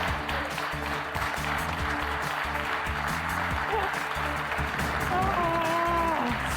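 Lawmakers in the Georgia Senate chamber applaud the retiring Senate Minority Leader, a dense, even patter of clapping that fills the room while voices talk over it.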